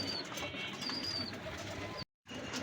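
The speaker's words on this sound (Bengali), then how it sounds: "ওমান টেডি কবুতর আর কি।" Oman teddy pigeons coo softly nearby in a loft, low repeated calls under a busy background with thin chirps, cut by a brief silent gap near the end.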